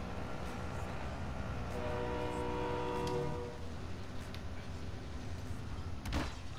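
A train rolls by in the video game Call of Duty: Modern Warfare, a low steady rumble with a faint horn-like tone in the middle, fairly quiet and continuous.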